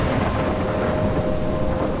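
A thunderstorm near a lighthouse in the video game Life is Strange: a dense, steady roar of wind and rain with a low rumble running through it, and no voices.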